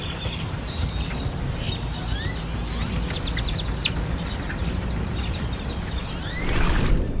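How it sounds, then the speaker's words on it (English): A huge flock of birds crowding a parking lot, with scattered chirps and calls rising over a dense, steady background roar of wings and noise, growing louder near the end. "Millions of birds boldly occupied the parking lot,"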